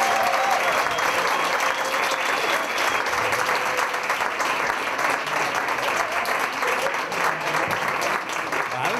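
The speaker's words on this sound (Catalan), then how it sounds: "Moment de rebre aplaudiments per l'Ester Bertran." A crowd at a stand-up monologue contest in a bar applauds a performer, a dense, continuous burst of clapping that stays loud and even throughout.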